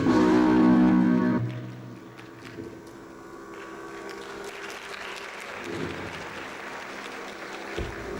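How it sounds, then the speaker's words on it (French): Audience applause at a regional cultural day event in Fès, loud and dense at first, then thinning after a second or so into quieter, scattered room noise. "Applaudissez pour lui, s'il vous plaît."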